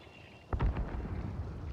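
A single muffled, distant explosion in the first-person shooter Hunt: Showdown, a sudden low boom about halfway through followed by a rumbling decay, heard fairly faintly against quiet game ambience.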